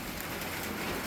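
Heavy rain pours down in a dense, loud, unbroken hiss on the street during a delivery ride, with nothing else breaking through the downpour.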